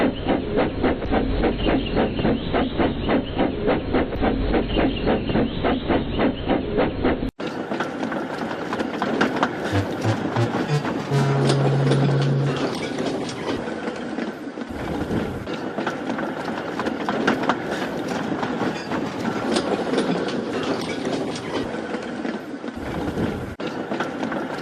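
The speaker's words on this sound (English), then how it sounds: "She's taking the train." A cartoon train runs along the rails with a fast, steady mechanical clatter of wheels and rods, then shifts to a fuller, continuous rumbling rush with a brief whistle-like tone, loud and unbroken throughout.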